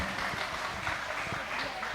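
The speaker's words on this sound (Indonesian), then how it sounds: "Tepuk tangan untuk Bapak Kepala Desa kita." Villagers applaud the village head at a gathering, a faint, steady wash of clapping filling the short span.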